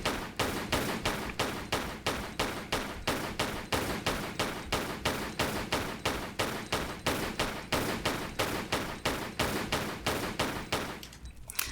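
Gunshots fired at an enemy in a Tomb Raider Level Editor game ring out as a long, steady string of about forty evenly spaced loud shots, close and alone, then stop abruptly near the end.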